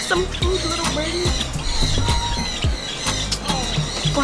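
Birds squawk in rapid, sharp calls while being hand-fed seed outdoors in Mexico, the loud chirps and squeals overlapping steadily throughout.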